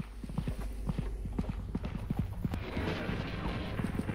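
Footsteps in the horror video game Content Warning, a quick series of close, sharp thuds with a steady walking rhythm, clearer and denser toward the end of the clip.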